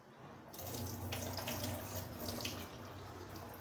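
Water is poured off soaked poha in a home kitchen, a close, steady splashing gush that starts suddenly and runs continuously to the end without talk.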